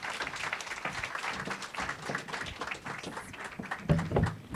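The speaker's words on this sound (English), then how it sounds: "I want to give another big round of applause to all the startups that pitched." Audience at a Silicon Valley digital health startup pitch night applauding the pitching startups, steady dense clapping throughout at moderate level with a few sharper claps near the end.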